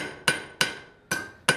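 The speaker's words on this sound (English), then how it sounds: "I'm going to use the hammer to just keep chasing this little lump of steel ahead" A blacksmith's hammer strikes hot steel on an anvil four times, each a loud, sharp, ringing clang at an uneven, unhurried pace, with brief decays between blows.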